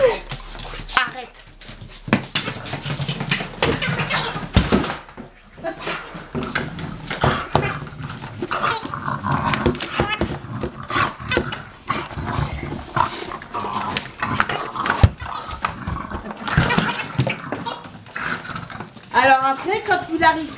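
A dog growls and roars in bursts during play, loud and close, mixed with a person talking over it and occasional clattering.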